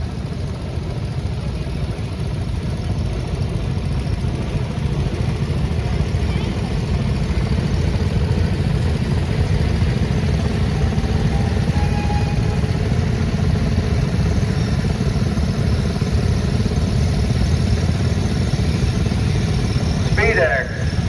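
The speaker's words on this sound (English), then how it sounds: "'36 John Deere BR, owned and operated by Paul Humphrey of Meadville, Pennsylvania" A 1936 John Deere BR tractor engine runs steadily during an outdoor tractor parade, a continuous low, rough rumble holding at an even level for the whole stretch, with general background noise around it.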